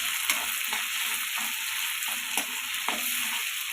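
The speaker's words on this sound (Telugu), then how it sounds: "అల్లం పేస్ట్ ఆయిల్లో ఫ్రై అయితే మంచి స్మెల్ వస్తుంది." Ginger paste and tomato frying in hot oil in a home kitchen, a steady continuous sizzle with occasional soft stirring clicks and small pops, close and alone with no talking.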